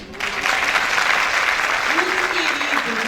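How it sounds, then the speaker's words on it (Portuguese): Audience applause fills a lecture hall, a steady wash of clapping that begins abruptly and holds loud throughout, with a voice speaking faintly beneath it. "Eu quero que vocês aplaudam o Vinícius."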